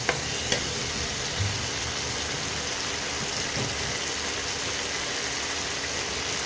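Spice masala sizzling in hot oil in a pan for an okra and sesame dish, a steady close frying hiss with occasional stirring scrapes, no talking.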